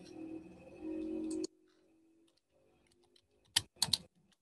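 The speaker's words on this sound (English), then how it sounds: "let me just type it for you" Brief typing on a computer keyboard during a lecture, a few quick close clicks in a small cluster, following a stretch of steady hum that cuts off, with no talking over the keys.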